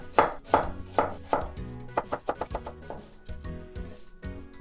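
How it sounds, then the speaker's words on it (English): A knife chops cabbage stems into thin slices on a cutting board for stir-fried udon, with a steady run of crisp, close thuds that speed up in the middle and then slow again, with no talking. "Then the stem part I'm gonna cut into thin slices."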